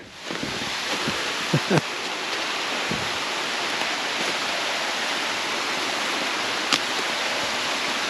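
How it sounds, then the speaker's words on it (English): Steady broadband rush of water pouring over a waterfall into a small canyon beside a farm, continuous and fairly loud throughout, with a few faint knocks and rustles near the start. "Now it sounds like there's a pretty good bit of water falling over there"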